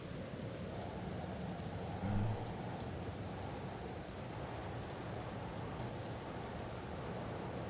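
Continuous rain in the video game Empyrion Galactic Survival pours as a broad, steady hiss with a low rumbling undertone, briefly swelling with a soft low thud partway through before settling back to an even wash.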